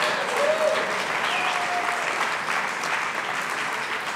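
An audience at a Richard Nixon Foundation celebration for Rep. Ed Royce claps steadily and warmly, a dense, sustained round of applause filling the room throughout.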